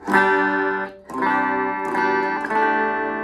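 A clean Glarry GST electric guitar, drive switched off, plays a few sustained strummed chords, each ringing out clearly without distortion, close and fairly loud with no voices.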